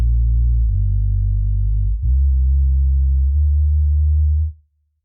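Voice-made bass line looped on a Boss RC-505 MK2 with a low-pass filter, sounding as a deep, smooth, sustained tone that steps through a few held notes over about four seconds before cutting off.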